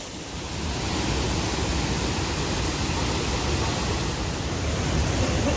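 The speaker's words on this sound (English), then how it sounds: "Here we are at Waterfall." Broad, steady rushing roar of a tall, straight-drop waterfall in Bali, loud and continuous throughout, with no voices.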